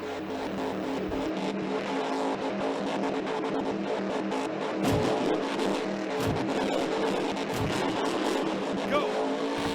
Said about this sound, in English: Check out Dragon, a super cool monster truck.